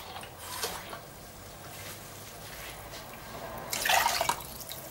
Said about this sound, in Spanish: Lo que voy a poner es un poquito más de agua.